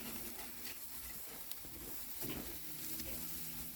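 Massive cowboy steaks sizzle steadily over open grill flames, a continuous hissing crackle with faint pops and a soft low rumble of fire, fairly quiet and without speech.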